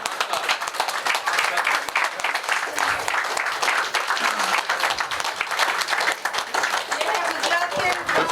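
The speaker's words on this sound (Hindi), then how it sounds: "तालियां नहीं रोकनी चाहिए" Audience at an occult summit in Ahmedabad claps steadily and loudly throughout, with a speaker talking over the applause.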